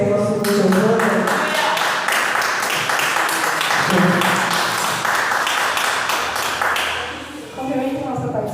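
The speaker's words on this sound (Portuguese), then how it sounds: "As palmas louvam ao Senhor para receber a nossa irmã Giovana." A church congregation claps in praise to welcome a sister forward during a worship service, a sustained crowd patter filling the room while a voice talks and music plays over it, the clapping easing near the end.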